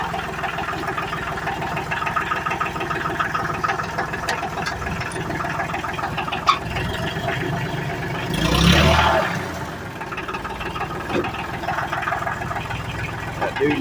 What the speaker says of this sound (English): I'm gonna try to drive the tractor one-handed.